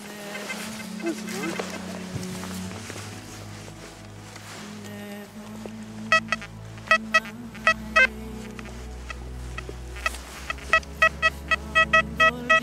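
A metal detector sounds out in the field: a low droning tone gives way to a rapid series of short, sharp beeps over a find, with faint background murmurs and no clear talk.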